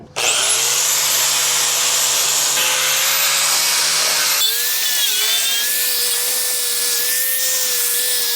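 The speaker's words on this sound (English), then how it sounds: "we'll use an angle grinder fitted with a wire brush" An angle grinder fitted with a wire brush scrubbing a boat trailer axle spindle, a loud, sustained high whine that shifts pitch partway through as the brush loads against the metal, with no voices.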